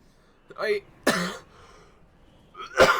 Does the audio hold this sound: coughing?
yes